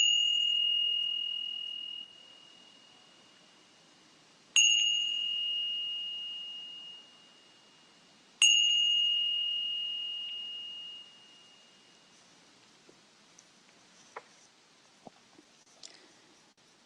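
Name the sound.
meditation bell ringing and fading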